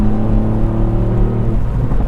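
Tuned 265bhp Ford Fiesta ST Mk8 three-cylinder pulls hard in fourth gear, a close, loud, droning engine note that rises steadily and then eases off toward the end.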